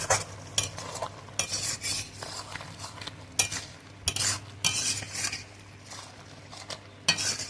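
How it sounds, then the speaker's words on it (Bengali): Repeated scraping and clinking of a utensil against a metal wok while stirring mutton, in irregular bursts over a steady low sizzle, cooked over a wood fire, close up with no voices. "এভাবে মাঝে মাঝে নেড়ে দিতে হয় নাহলে কড়াইতে লেগে যাওয়ার সম্ভাবনা থাকে"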